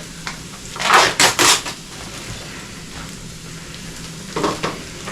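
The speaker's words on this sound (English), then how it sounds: "I'm going to add my meat because I want to brown it" Fine-ground Trader Joe's meat goes into a hot pan with vegetables for a homemade meat sauce, giving a burst of loud sizzling and scraping stirs, then a quieter steady fry and another short crackling flare near the end.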